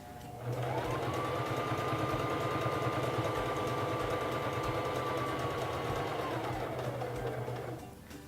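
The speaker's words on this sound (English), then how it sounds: "turn it so that it is on step 3 of the buttonhole. And begin sewing." A SINGER Fashion Mate 3333 sewing machine stitching a buttonhole runs steadily for about seven seconds, its motor humming with a fast, even needle chatter that starts and stops cleanly, close and alone with no talk.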